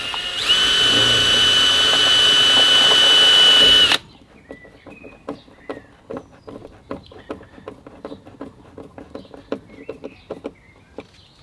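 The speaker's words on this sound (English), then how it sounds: "You just go round and drill." A cordless power drill whines steadily for about four seconds while drilling around a Van der Moon organizer, then stops, followed by a string of light clicks and taps as parts are handled.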